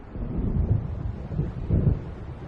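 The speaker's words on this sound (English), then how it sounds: "It seems there's a storm coming." A low, rolling rumble of thunder from an approaching storm in the video game Alan Wake, swelling in two or three heavy waves over a couple of seconds with a faint rain-and-wind wash beneath.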